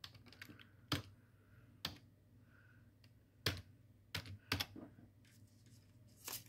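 Code typed on a computer keyboard, heard as quiet, sparse key clicks in small irregular clusters with pauses between them, close to the microphone.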